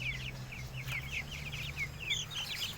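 Chickens cluck and call repeatedly in a backyard coop, a steady run of bird vocalizations over a constant low hum, close and clear throughout.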